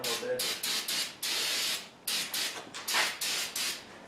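Cleaner sprays in a quick series of sharp hissing bursts with short gaps between them onto a Norton #6 fly press being cleaned of old grease, close and loud.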